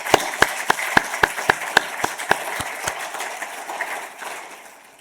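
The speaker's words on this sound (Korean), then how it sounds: "큰 박수로 환영하겠습니다" A church congregation gives a welcoming round of applause after a Sunday service prayer, starting as sharp, evenly spaced loud claps that soften and thin into scattered clapping over several seconds.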